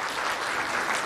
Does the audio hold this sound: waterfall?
no